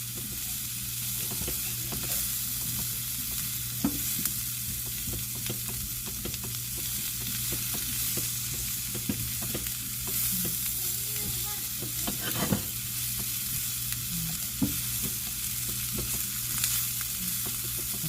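Sausage, potatoes, vegetables and seasoning sizzle steadily in a pan over medium heat as they are stirred, with a continuous close frying hiss, scraping and occasional clinks of the utensil throughout.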